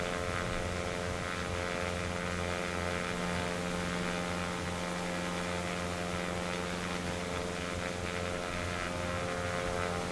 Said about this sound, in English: This is the standard 172 that you get with X-Plane.